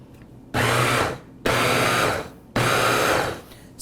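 An Aicok immersion hand blender with its chopper attachment whirs loudly in three bursts of about a second each, separated by short pauses.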